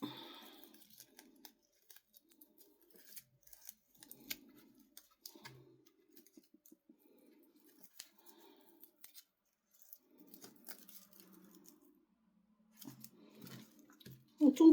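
Scissors snip through straw while a St Brigid's cross is being made: a few short, crisp cuts spread out over quiet gaps, close and fairly soft, with occasional brief speech.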